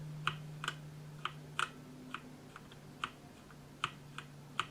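Irregular soft clicks of typing on a RisoPhy wireless mechanical gaming keyboard with linear switches, quiet and close, over a faint steady electrical hum.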